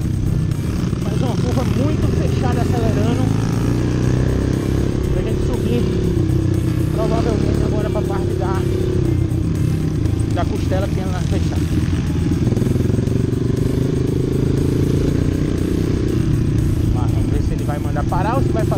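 A Honda CRF 230 dirt bike revs and accelerates hard through tight off-road turns, its engine loud and close throughout, rising and falling, while a rider speaks over it.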